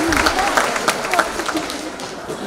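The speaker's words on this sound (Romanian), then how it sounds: "Haideți să-i aplaudăm încă o dată" An audience applauds the jury at the EURO DANCE 2024 dance competition, a dense patter of clapping under a speaking voice.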